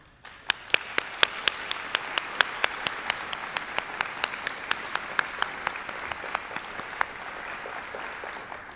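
An audience applauds steadily for several seconds at a university conference plenary session, many hands clapping at a moderate distance, with a few sharper claps standing out.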